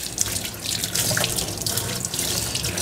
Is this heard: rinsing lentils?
yes